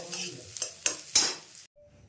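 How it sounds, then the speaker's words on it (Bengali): Soya chunks and eggs frying together in a pan, with a soft sizzle and several sharp scrapes of a utensil stirring against the pan, then a sudden drop to near silence. "হয়ে গেছে আমার এখানে সয়া চাংস আর ডিম একসঙ্গে ভাজা"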